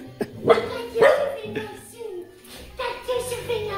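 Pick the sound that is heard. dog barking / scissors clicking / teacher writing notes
dog barking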